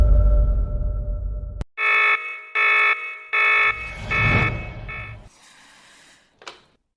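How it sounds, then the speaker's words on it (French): A factory alarm buzzer sounds in five loud, harsh bursts after a low rumbling hum. A fainter tone and a short final blip follow. "Louis, l'alarme de l'usine, c'est l'affaire de l'ingénieur en chef pour la gérer"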